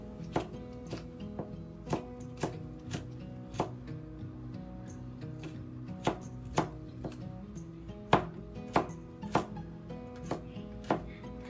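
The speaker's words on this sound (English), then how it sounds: "Cut it probably this thin, and then we slice it like this." A knife slices ginger thinly on a cutting board for fried long beans with pork, with crisp, evenly spaced chops landing roughly every half second in a steady rhythm, close and clear with no voices.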